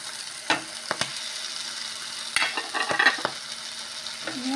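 Kerala-style squid roast cooking on a low flame in a pan, a soft continuous sizzle broken by a few sharp scrapes and taps of a spoon stirring nearby.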